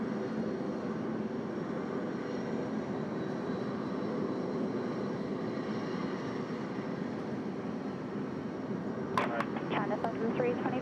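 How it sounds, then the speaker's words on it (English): Rolls-Royce jet engines of a China 7325 airliner landing on runway 34 left at Sydney Airport give a steady, loud broadband roar throughout, with a brief sharper burst of noise near the end. "I'll tell you what beautiful sounds from their Rolls-Royce"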